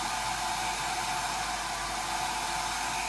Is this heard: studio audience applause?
no